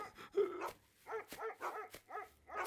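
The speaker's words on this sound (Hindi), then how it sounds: "काफी देर से स्कॉट डॉग वहां भौंक रहे हैं।" Several dogs bark in a rapid series of harsh, mid-pitched yaps with short gaps between bursts, fairly close and loud, with no talking over them.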